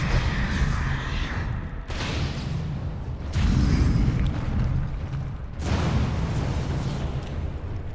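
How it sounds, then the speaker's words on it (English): Heavy explosions boom in Dragon Age: Origins, several long, loud rumbling blasts separated by short drops. "Explosions."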